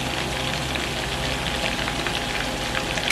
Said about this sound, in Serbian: Rebra okrećite da se ovako fino proprže sa svih strana, da lepo porumene i dobiju lepu boju.